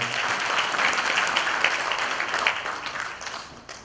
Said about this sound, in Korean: 뜨거운 박수로 감사드립니다.